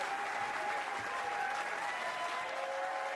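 Crowd applause for bowler Jake at the PBA Bowling US Open, a steady, fairly faint wash of clapping from a distant arena audience lasting throughout.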